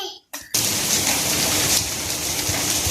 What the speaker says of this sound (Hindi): अभी तेज बारिश हो चुकी है, अभी थोड़ी हल्की होती है